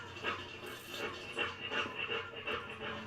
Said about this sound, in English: It sounds like a dog walking and breathing, and you're hearing the chain